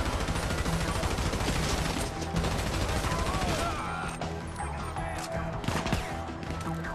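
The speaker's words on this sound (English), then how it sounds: "Let's switch weapon to the SMG" Rapid bursts of SMG gunfire in Grand Theft Auto V rattle on through a dense, loud in-game firefight, layered with crashes and other game effects and no pause in the shooting.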